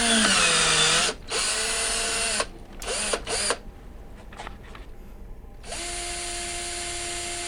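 A hand drill whines in several bursts, turning wood in a dowel maker, speeding up and stopping with pauses between, close and loud, ending in a steady run.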